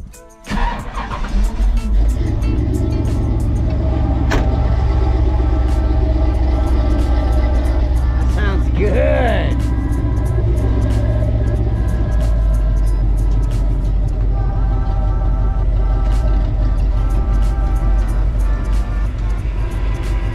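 A Chevrolet C10 pickup truck engine with newly installed parts cranks and catches, then settles into a steady, throaty rumbling idle with a brief rev partway through, loud and close throughout.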